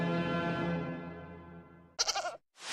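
Goat bleating in a TV promo: one long, loud, wavering bleat close up that fades out, followed by short bursts of other promo audio.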